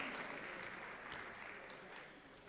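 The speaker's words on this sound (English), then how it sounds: "let's clap for them" An audience at a university debate championship applauds arriving teams, a continuous wash of many hands clapping, fairly distant and steady throughout.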